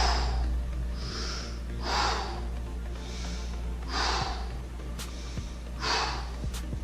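Deep, slow breaths taken while holding a capoeira stretch, about five long airy inhales and exhales at roughly two-second intervals, close and clear over a low steady background hum.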